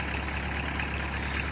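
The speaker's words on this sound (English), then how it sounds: "So I'm filling all of this in using the tractor" A tractor engine runs steadily at a constant low rumble while ground is being filled in, the idle-like drone unbroken and close.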